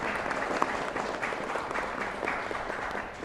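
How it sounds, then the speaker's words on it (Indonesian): An audience at an Indonesian political talk event on provincial legislature duties claps together in a thick, even wash of applause that holds at moderate loudness throughout. "boleh berikan tepuk tangan sekali lagi kepada Ibu"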